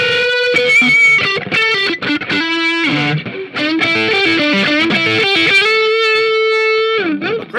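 Fender Mod Shop Telecaster electric guitar with channel-bound neck, played through its neck pickup with heavy distortion, giving sustained lead notes and bends with thick harmonics, loud and alone without any talking.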